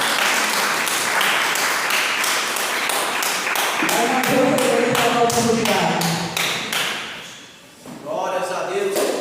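A church congregation at a healing and deliverance service claps in a loud, steady rhythmic beat. Voices sing or speak over the clapping midway, and the clapping fades briefly near the end before picking up again.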